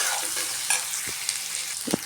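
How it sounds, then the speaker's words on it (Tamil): Chopped onions sautéing in a pan for Bombay chutney, giving a steady close sizzle and frying hiss with a few soft stirring scrapes, and no talking. "நல்லா வெங்காயம் வதங்கிட்டுருக்கு."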